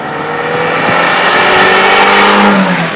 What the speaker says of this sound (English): Don't let the throaty exhaust note fool you.